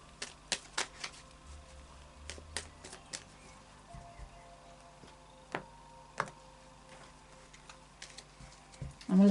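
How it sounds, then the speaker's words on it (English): Light Seers Tarot cards are shuffled and tapped in quiet, scattered bursts of crisp flicks and snaps against a hushed room. "we'll do a final shuffle of the Light Seers Tarot"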